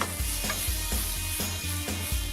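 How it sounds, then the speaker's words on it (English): Cumin, garlic, chili and red onions sizzle steadily in a hot pan for a spicy tomato sauce, with a spoon stirring and scraping in a regular rhythm, close and alone. "get your cumin in there. Garlic, chili, roasted cumin, red onions."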